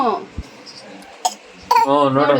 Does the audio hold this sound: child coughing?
yes